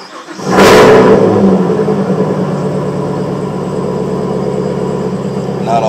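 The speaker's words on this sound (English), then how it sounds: "All right, let's hear it for the ZL1." A 2022 Chevrolet Camaro ZL1 in Rapid Blue fires up with a loud starter-and-ignition burst that flares to a brief rev, then drops into a deep, steady, rumbling idle close by.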